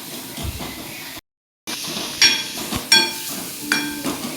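Egg shev bhaji masala sautés in a pan as a spoon scrapes and stirs in short, uneven strokes over a soft sizzle; the sound briefly cuts out near the start, and there is no speech.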